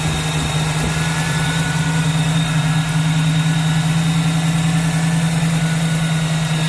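A rebuilt 304 V8 in a 1979 AMC Spirit AMX idles steadily, a loud, even, close-up hum with a constant low tone and a faint mechanical vibration, with no voices.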